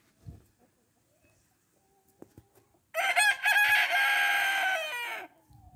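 Light Brahma chickens, a large heavy meat breed, crow and cluck loudly in one sustained burst lasting about two seconds, following quiet scattered farmyard noises.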